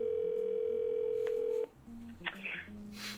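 A steady telephone dial tone at the start of a prank phone call, held for about a second and a half before cutting off to quiet line noise and faint tones.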